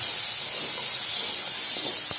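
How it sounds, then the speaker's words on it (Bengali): Potatoes fry in hot oil with a dense, even hiss and sputter that holds steady and close throughout, with no talk. "আলুটাও ভেজে নিচ্ছি।"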